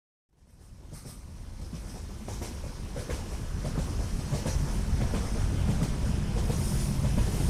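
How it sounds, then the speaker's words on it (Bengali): A train arriving and slowing at a station, a rumbling clatter of wheels on rails that rises out of silence and swells steadily louder, with no voices over it. "কিছুক্ষণের মধ্যে ট্রেন স্টেশনে এসে থামল।"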